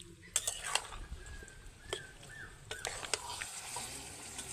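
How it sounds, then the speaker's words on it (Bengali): Fried pointed gourd and prawns are sautéed with spices over medium heat, giving a soft, steady sizzle with intermittent scraping and stirring clicks from a utensil in the pan. "ভেজে রাখা পটল আর চিংড়ির সঙ্গে মশলাটাকে আরও 3 থেকে 4 মিনিট ধরে ভালোভাবে মিডিয়াম আঁচে কষিয়ে নিতে"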